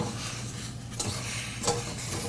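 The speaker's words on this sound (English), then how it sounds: "we're going to mix that up so that it all gets blended" A spoon stirs cranberry fruit compote in a pot, a soft, wet churning and sloshing with a couple of light scrapes against the pot, heard close and fairly quiet with no talking.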